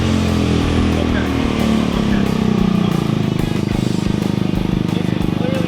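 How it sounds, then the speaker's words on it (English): A Nash Metropolitan with a swapped engine runs steadily and loudly close by, a continuous low rumble with a faint rise partway through and no talk over it. "This is clearly a Metropolitan engine."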